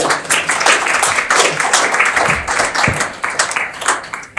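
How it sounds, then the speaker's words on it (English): A crowd claps loudly and continuously for a few seconds, a dense wash of hand claps filling the room. "So please give a round of applause to Eileen, and thank you very much."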